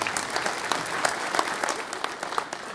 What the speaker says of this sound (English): give them all a round of applause for getting into that